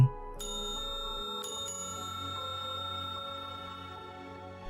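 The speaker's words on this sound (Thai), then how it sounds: "กดกระดิ่งขึ้นมาสามครั้ง" A counter bell is struck three times in quick succession, each bright ding ringing on and slowly fading in a quiet room.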